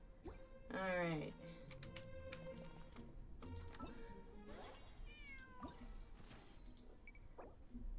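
A cat in the video game Genshin Impact lets out a loud, rising meow, then several softer mewing calls follow over a quiet hum of game sound.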